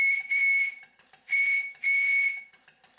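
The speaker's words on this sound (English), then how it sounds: "The whistle sounds a bit feeble because there isn't much pressure in the boiler," A steam whistle on a model traction engine with a boiler at about 40 psi sounds feeble and hissy. There are three close breathy blasts: a short one, then two longer ones in quick succession, with no talking.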